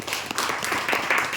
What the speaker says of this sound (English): Clap for the people who answered.